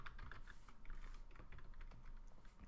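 Computer keyboard typing, quiet and close, a quick irregular run of key clicks with short pauses, heard alone.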